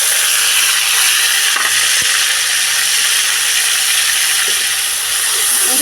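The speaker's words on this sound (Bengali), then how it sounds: "ধনে বাটা আর জিরে বাটাটা তেলের মধ্যে দিয়ে দিচ্ছি।" Coriander and cumin paste sizzles in hot oil for a Bengali doi potol curry, a steady loud hiss of frying that holds evenly throughout with a few faint clicks, no talking.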